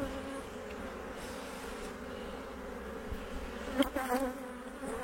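Bees hum steadily around a hive, a dense, continuous buzz with a few louder wingbeats passing close to the microphone near the end.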